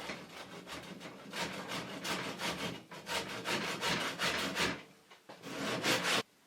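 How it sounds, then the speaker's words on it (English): A hand saw cuts into a fiberglass-backed laminated wooden flat bow, making a run of close, rasping back-and-forth strokes that pause briefly near the end and then give one last burst. "I'm just going to make another cut more or less the same there to follow the curve of the shelf itself"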